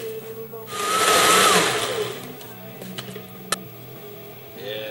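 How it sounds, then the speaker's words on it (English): A blender purees fish berley for fishing bait with a loud, close whirring roar that swells for about a second and a half, then drops away to a quieter hum and a few small knocks. "so I'll just throw the blender on a little bit longer"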